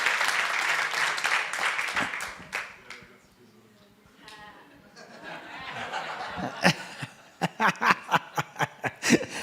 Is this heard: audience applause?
yes